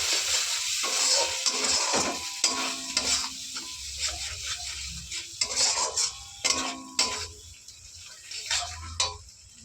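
Ginger, garlic and green chilli paste fries in a pan for ghugni while a spoon stirs and scrapes the metal, making repeated clinks and scuffs over a steady sizzle, close and fairly loud with no talking.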